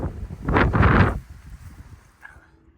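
A strong gust roars loudly against the microphone for about a second, then eases into lower, intermittent wind rumble.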